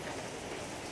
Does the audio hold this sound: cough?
no